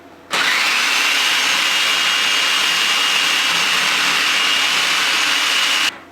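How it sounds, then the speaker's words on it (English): A loud, steady whirring motor roar starts abruptly, runs continuously for several seconds, then cuts off, close by with no talking. "I use my food processor here"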